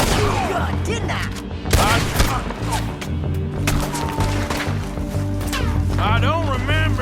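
Gunfire in Red Dead Redemption 2 crackles in rapid, repeated shots close by and farther off, mixed with shouting voices and music, with people talking throughout.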